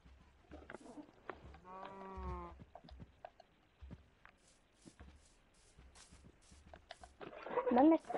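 Minecraft sheep bleat once in a short wavering cry amid quiet game sounds, with a person speaking around it and a louder burst of noise near the end.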